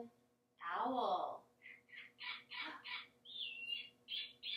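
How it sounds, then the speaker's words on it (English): Snowy owl calls: one loud, sweeping, squawking cry followed by a run of short, high, chirping calls in quick succession, heard close and alone. "And on that farm she had an owl."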